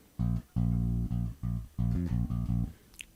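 Bass guitar plays a line, low notes in short separated phrases with a quick grace note sliding up to a high octave F, close and clean, with no voices.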